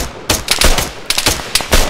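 Rapid bursts of gunfire from ARMA 3 crack loudly in clustered volleys, several sharp shots close together with brief gaps between them, and no talking over them.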